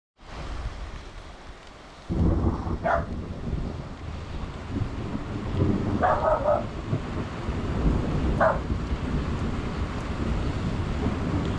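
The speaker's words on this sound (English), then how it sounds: "That rain was a sight for sore eyes. It certainly sounded wonderful." Steady rain and gusty wind buffeting the microphone, with a low, rolling rumble of thunder building and lingering in the background.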